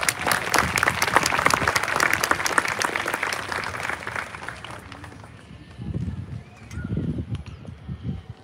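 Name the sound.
graduation audience applause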